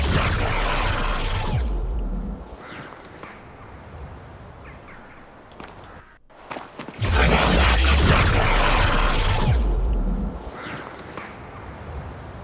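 A magic spell sound effect built from processed mouth recordings: dense whooshing, airy swells with a reverb tail, rising in two loud surges split by a brief near-silent gap.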